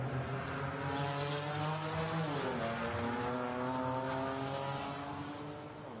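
GT4 race cars, a Porsche Cayman and a BMW, racing at Imola through the Tosa corner, with loud sustained engine roar and a clear pitch shift as they lift and downshift midway, then accelerate on, no talk.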